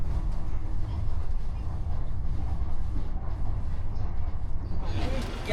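A high-speed train's sleeper carriage rolls along the line from Oudomxay to Nateuy in Laos, making a loud, steady rumble that fills the whole stretch without a break.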